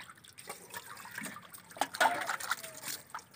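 Soaped dishes being rinsed under running water at home, a light trickle and splashing with a few brief louder spatters and clinks, close and fairly quiet, with no talking.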